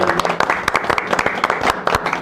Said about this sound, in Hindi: तो तालियां बनती है सारे।